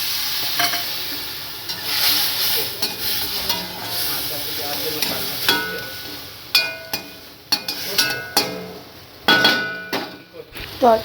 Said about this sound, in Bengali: তারপর একটু নেড়ে নেবো হালকা নাড়াচাড়া করার পর